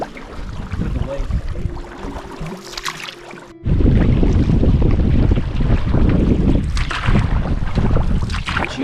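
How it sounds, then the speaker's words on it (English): Wind buffeting the microphone during an October canoe trip on a lake in the Tobeatic Wilderness Area, Nova Scotia, a rough roaring rush that drops briefly then surges louder and stays strong, with faint voices. "Let's use that wind."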